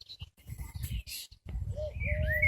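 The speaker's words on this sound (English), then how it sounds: "There's a lot more birdsong in this." Birds singing outdoors in nature near gardens, with short chirps and a clear whistled call rising over a low rumble of wind or handling noise, moderately faint.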